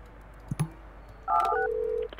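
Telephone dialing tones from the building-management game Project Highrise: two soft clicks, then a short run of steady electronic beeps, the second held slightly longer, clear and alone.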